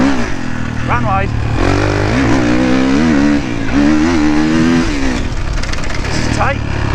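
Dirt bike engine revving and changing pitch while riding, loud and continuous with rising and falling whine as the throttle opens and closes, a rider talking over it.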